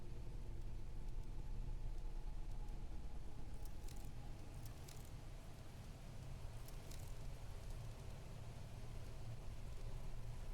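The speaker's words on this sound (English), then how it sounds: "it sounds like another storm going on outside. It's raining, that's what it is." Steady rain patters outside a shelter in Planet Crafter, a soft continuous wash of drops over a low rumble, with a few sharper ticks scattered through.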